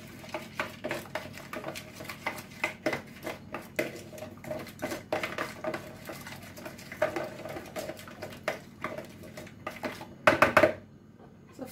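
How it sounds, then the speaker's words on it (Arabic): A spoon or utensil scrapes and taps against a bowl while piri piri marinade is mixed with olive oil, giving a steady rhythm of light clinks and stirs, with a louder clatter of strokes near the end. "صافي نخلطو كلشي"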